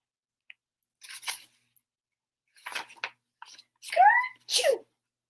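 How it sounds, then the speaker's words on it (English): Several breathy bursts building up, then a loud sneeze with a rising, squeaky voiced tail, close and alone in silence. "That sneeze woke up his grandpa"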